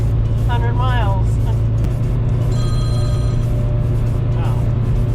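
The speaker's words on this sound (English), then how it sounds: "get a phone call right now" A phone rings with an incoming call inside a moving semi truck cab, a brief bright electronic ring pattern over the loud, steady low engine and road drone.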